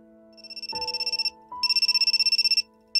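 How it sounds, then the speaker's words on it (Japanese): A phone in the visual novel game Amnesia: Memories rings with a bright electronic ringtone, two bursts of rapid pulsing tones separated by a short gap, loud and clear with no talk. "一気じゃなくて知らない番号から電話だ"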